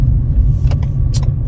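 Steady low rumble from inside a moving car carrying someone to lunch, a continuous engine and road drone with a few faint higher clicks or rattles, no talking.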